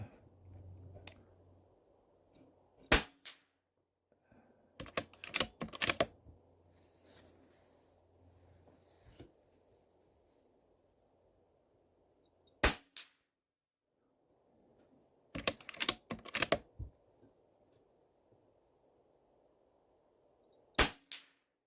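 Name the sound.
Stoeger XM1 PCP air rifle shots at targets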